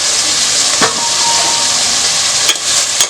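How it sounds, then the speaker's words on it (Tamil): Curry leaves and green chillies fry in hot oil for gongura chicken curry, a loud, close, continuous sizzle with a few sharp crackling pops. "நல்லா வதங்கட்டும்."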